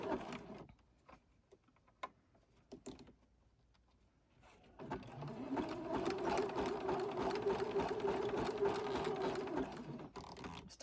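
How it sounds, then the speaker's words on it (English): Sewing machine zigzag stitching over stretched elastic on a newborn elf outfit, a steady close motor whir with rapid needle chatter that starts after a few quiet seconds and runs continuously, alone without talk. "And I'm going to pull this tight as I sew right over the top of the elastic."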